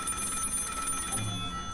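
In the video game Finding Frankie, a telephone rings with a steady, rapid electronic trill, loud and close, then cuts off abruptly near the end.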